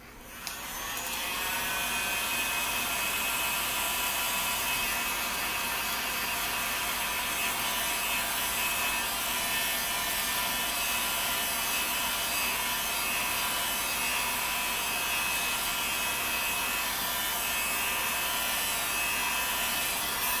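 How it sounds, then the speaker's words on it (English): An electric heat gun blows hot air over wooden bow siyahs, giving a steady, close whirring hiss with a faint whine that runs unbroken throughout. "I am going to move the heat gun over to a different socket."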